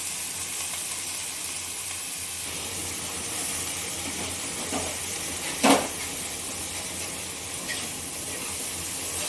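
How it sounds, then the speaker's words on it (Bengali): Fish oil frying with thinly sliced onion in a pan, a steady low sizzle and hiss throughout with one brief sharp clink partway through. "পেঁয়াজের সঙ্গে মাছের তেলটা খুব ভালোভাবে ভেজে নেব।"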